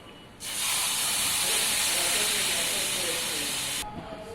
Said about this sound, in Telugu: సో ఇప్పుడు ఇది ఫ్రై అయిపోయింది, దీంట్లోకి మనం పెరుగు యాడ్ చేసేసుకుందాం.